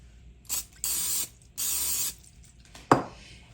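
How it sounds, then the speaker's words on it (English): Two long hissing bursts of cooking spray onto a butter knife, followed by a short scrape and a clack, with quiet pauses in between. "Let me spray my butter knife."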